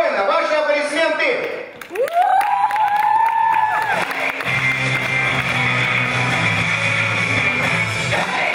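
Audience at a KVN comedy show bursts into sustained applause and cheering, dense and loud, after a brief musical sting, with voices over the crowd noise.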